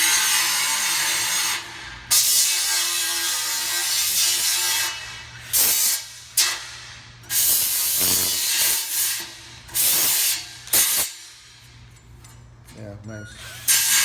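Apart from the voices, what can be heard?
Ingersoll Rand G1621 air polisher/sander deburring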